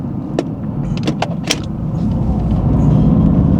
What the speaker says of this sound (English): This car sounds pretty good, too.